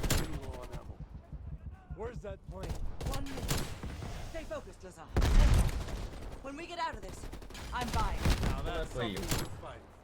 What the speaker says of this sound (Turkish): Ben mermi döküyorum yavrum.